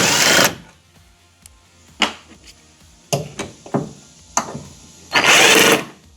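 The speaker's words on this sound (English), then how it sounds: "Kind of get our fingers in here and just pry it really good." Plastic clips and housing of a Chevrolet Silverado tail light assembly being pried loose by hand, giving a series of sharp creaks, snaps and pops, with two longer, louder scraping bursts at the start and end.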